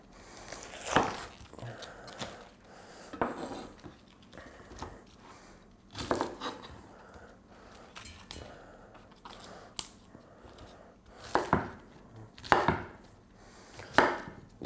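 A knife chops cauliflower on a cutting board for a vegetarian dish, sharp irregular thuds and crunches spaced a second or two apart, close and fairly loud, with quiet movement between the cuts.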